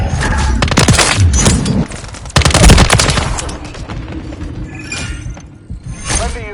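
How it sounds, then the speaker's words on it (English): A stun grenade thrown during a Modern Warfare 3 multiplayer match, surrounded by loud bursts of gunfire, a sharp shattering crack and clattering mechanical noise, with brief voice callouts over the chaos. "Throwing stun grenade!"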